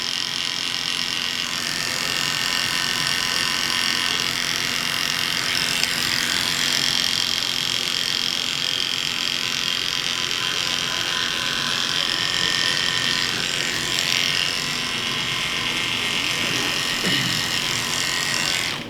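Oster hair clippers with a number 2 guard buzz steadily while cutting hair during a military high bald fade, a close, continuous electric hum with slight shifts in tone as the blades move through the hair.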